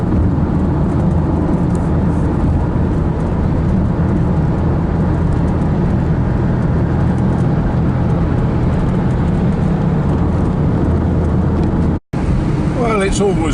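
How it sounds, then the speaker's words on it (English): Car interior on a bumpy old road: a steady low rumble of engine and road noise fills the whole stretch, briefly cutting out near the end before resuming, with a faint voice layered over the hum. "Bumpy old road this, not as smooth as the roads in France, but that's a very smooth motor car"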